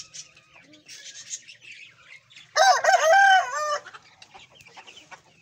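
Chickens cluck quietly, then a rooster crows loudly for about a second near the middle before the soft clucking resumes, with no speech.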